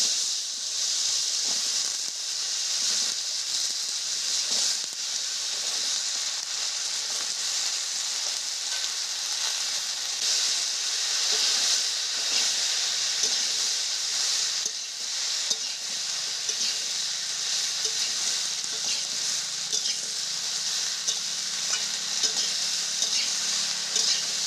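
Chopped vegetables sizzling and frying in a pan as a vegetarian curry with split black gram is cooked, a continuous bright hiss with occasional stirring scrapes throughout.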